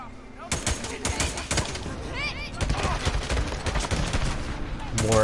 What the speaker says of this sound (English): More accurate shooting.